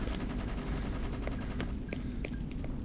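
Sustained gunfire from the shooter Freedom Fighters, a steady distant-sounding barrage of rifle shots rattling continuously under the battle noise, with a few sharper cracks standing out near the end.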